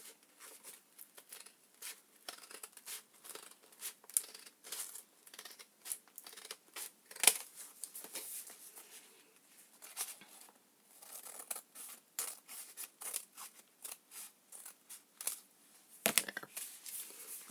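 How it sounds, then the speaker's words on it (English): Scissors snip and crinkle through paper in a quick, irregular series of soft cuts, close and quiet with faint rustling between them. "I'm trimming with the scissors."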